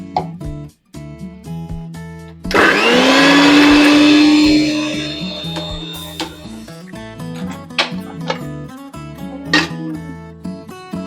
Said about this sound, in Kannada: ಪುದೀನ, ಕೊತ್ತಂಬರಿ, ಹಸಿಮೆಣಸಿನ್ಕಾಯಿನ ಮಿಕ್ಸಿಗೆ ಹಾಕೊಳ್ಬೇಕು